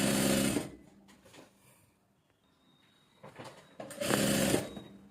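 A sewing machine stitches along a salwar waistband belt in two loud bursts of rapid whirring, separated by a quieter pause with faint handling noise.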